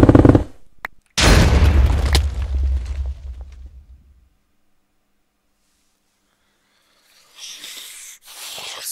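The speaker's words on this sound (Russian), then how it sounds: "Яшка активирует взрывное уничтожение за 2000 рублей." A loud booming blast in Minecraft on a modded server, one sharp hit followed by a long rumbling burst that fades to silence before faint noise returns.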